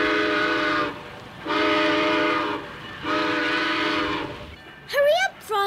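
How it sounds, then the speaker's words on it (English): A cartoon steam train sounds its whistle in three long, loud blasts as it pulls out of the station, followed by a brief voice at the end. "The train is pulling out."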